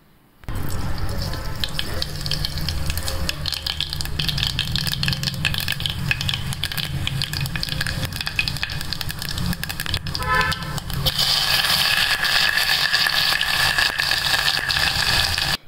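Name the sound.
Kolhapuri tadka spices frying in plenty of oil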